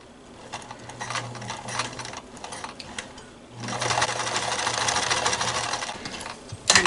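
A sewing machine stitches an elastic hair band onto a fabric face mask without pins: a short run of close stitching, a pause, then a longer, steadier burst, near and clear with no talk.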